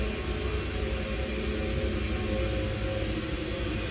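A steady, loud airplane engine drone at three-quarter throttle at high altitude in the X-Plane 10 flight simulator, approaching Lukla, holding an unbroken roar throughout.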